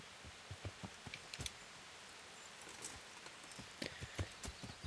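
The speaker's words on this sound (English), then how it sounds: "Let's call our horse over to us." In the video game Kingdom Come: Deliverance, a horse's hooves clip-clop at an uneven trot, faint at first and growing a little closer, with light clicks and rustling around them.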